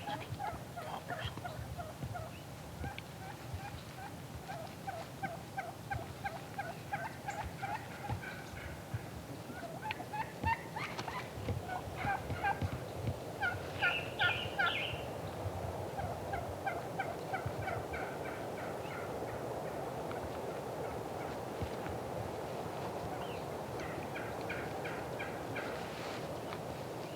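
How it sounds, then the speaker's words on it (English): Merriam's wild turkey gobblers calling outdoors during a hunt, with repeated bursts of rattling gobbles at moderate distance and some closer, louder calls mid-way, over a faint steady background hiss. "I thought that was a gobbler earlier."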